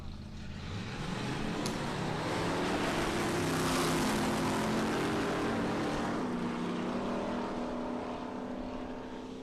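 Two outlaw nitro funny cars race side by side down the Palmyra Dragway strip, a huge droning engine roar that swells to a peak and fades slightly as they pass, loud and continuous throughout.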